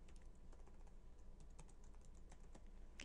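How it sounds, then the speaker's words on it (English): Faint, quick keystrokes on a computer keyboard tap in an irregular run of clicks, with no talking over them. "I'm going to type these up."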